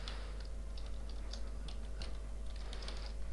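Steady, rapid typing on a computer keyboard, light clicking keystrokes in an even stream at close range over a faint constant hum, with no voices.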